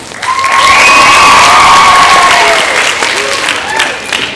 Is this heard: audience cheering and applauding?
yes